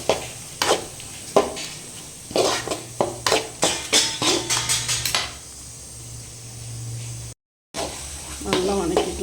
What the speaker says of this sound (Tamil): நல்லா வதக்கிக்கலாம் ஃப்ரெண்ட்ஸ்.